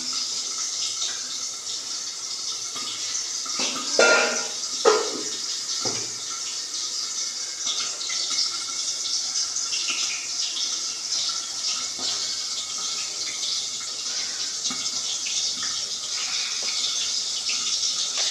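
Water is poured for cooking in a home kitchen, a quiet steady trickle with a couple of brief louder splashes near the start, continuing faintly throughout.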